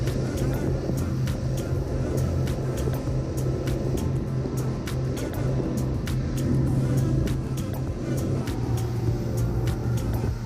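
Boat engines cruising steadily at about 35 miles an hour with trimmed throttles, a constant loud drone with wind and water rush and no break throughout.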